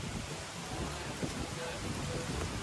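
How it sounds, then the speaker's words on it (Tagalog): Heavy typhoon rain pours steadily with gusting wind, a dense wash of noise and low rumbles throughout, no voices. "May bagyo pa din."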